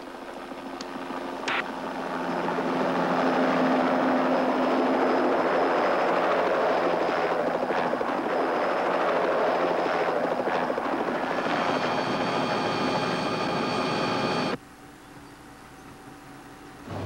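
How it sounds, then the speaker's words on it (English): A helicopter flies close overhead, its engine whine and blade thrum building to a loud, steady roar that holds for several seconds before cutting away abruptly. "That's that same helicopter machine he was flying."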